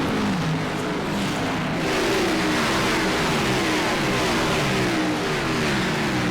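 Stock cars at Bristol accelerate through the gears, several loud engines revving and climbing in pitch one after another in a continuous roar, with no voices over them.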